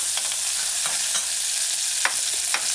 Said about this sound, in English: So add the chopped onions, let it stir fry and saute for a couple seconds, a few seconds.